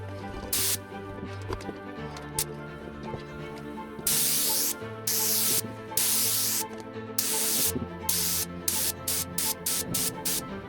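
Yellow car paint goes on as a second coat from a spray gun, in a series of loud hissing bursts of varying length separated by short pauses, close by.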